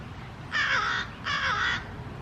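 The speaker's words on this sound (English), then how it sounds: "It's a big old crow and he's watching me." A large crow in a garden gives two loud harsh caws, each about half a second long, with a short pause between them, over a quiet outdoor background.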